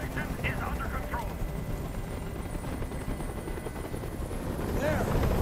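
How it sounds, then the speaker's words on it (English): A helicopter's rotor thrums loudly and continuously overhead in Detroit: Become Human, a dense low chopping drone that swells slightly toward the end, with a few faint high cries. "I can't stand that noise anymore! Tell that helicopter to get out of here!"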